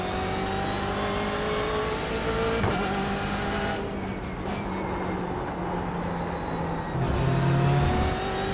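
BMW race car engine in iRacing revving hard through gear changes, a loud close onboard drone that rises, drops briefly and surges again, with no talking.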